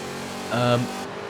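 Engine of a pre-1980 muscle car, with a pink Charger in the pack, swells into a brief, loud rev during a Forza Motorsport 7 race, then drops back into a steady background drone.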